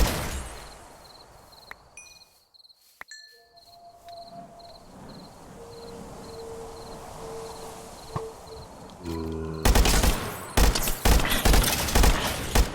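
Gunfire from the weakest gun in a modded Minecraft Prehistoric World game: a quiet stretch of ambient chirps and game tones, then a loud rapid burst of shots near the end.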